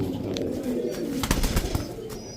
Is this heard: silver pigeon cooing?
yes